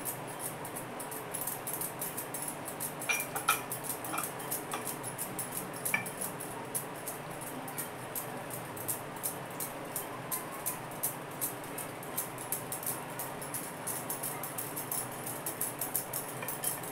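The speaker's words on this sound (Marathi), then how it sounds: "तेल आणि पिठी साखर मिक्स करते." Oil and powdered sugar are mixed in a bowl for homemade biscuits, producing a long run of rapid, even scraping and tapping strokes from a utensil against the dish, moderately close and unbroken by speech.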